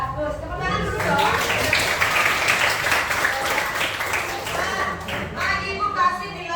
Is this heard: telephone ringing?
no